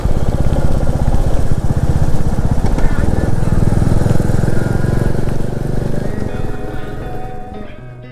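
A motorcycle engine drones loudly and steadily as the bike climbs uphill on a mountain road from the Teesta bridge toward Gangtok, fading slightly near the end.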